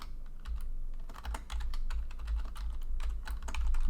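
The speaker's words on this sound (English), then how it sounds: "We will type in warrior.py" Close, continuous typing on a computer keyboard, a busy patter of key clicks with a low thudding undertone, no voices.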